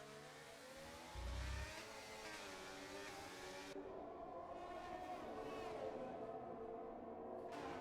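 F1 cars race around the Monaco circuit in a video game, a continuous high engine whine with rising and falling revs and gear shifts, loud and sustained with a low thump early on.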